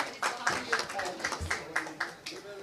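An audience at a book launch event clapping for actress Gul Panag, a short burst of rhythmic applause from a modest crowd, fairly close, with voices talking over it.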